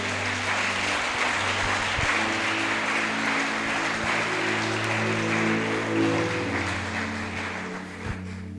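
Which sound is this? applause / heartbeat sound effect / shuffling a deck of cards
applause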